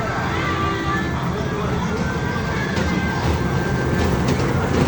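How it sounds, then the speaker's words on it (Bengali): A children's ride train runs at an amusement park, giving a continuous rolling rumble under a constant wash of crowd noise and chatter. "তারপরে ওই দেখো ট্রেন।"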